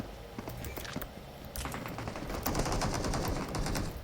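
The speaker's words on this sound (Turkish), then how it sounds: "Aha ayak sesleri, silah sesleri yakın." Rapid bursts of gunfire in PUBG Mobile crackle continuously, growing denser and louder toward the end, with scattered footsteps under the shooting.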